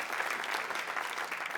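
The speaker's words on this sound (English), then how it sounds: "Yes, please clap." An audience at a Houston Ballet talk on Stanton Welch's Cinderella claps for a dancer being introduced, in a brief, dense burst of even applause that carries at steady strength throughout.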